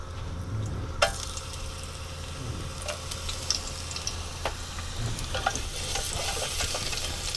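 Garlic sizzling in oil in a pan while cooking chicken risotto, a steady close frying hiss with occasional stirring clicks and scrapes throughout.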